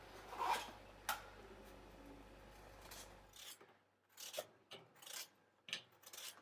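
A kitchen knife scrapes and rasps against a pumpkin as it is peeled, with short dry scraping strokes, faint and close, separated by brief pauses.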